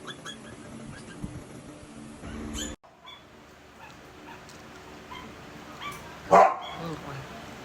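Dogs whimper and give short yips amid a busy household, with people talking throughout and a sharp louder burst near the end.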